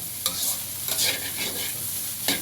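Pork fried rice with meatballs being stir-fried in plenty of oil, a loud steady sizzle broken by a few sharp scraping stirs of the spatula in the pan, close and without talk.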